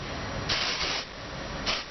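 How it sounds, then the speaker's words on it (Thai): Hair spray, a soft-hold type rather than hard spray, hisses onto curled hair from about 15 cm away in two short bursts, a longer one followed by a brief second, close and fairly loud, with no talking. "ก็คือสเปรย์ให้มันห่างจากผม สิบห้าเซน"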